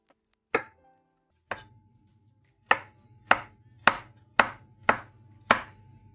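Knife chopping caramelised apples into small cubes on a board: eight sharp, distinct knocks, first spaced slowly then in a quicker steady rhythm, close and clear with no talk.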